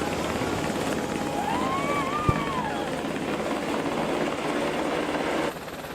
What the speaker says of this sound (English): helicopter powered by two General Electric T700GA 401C engines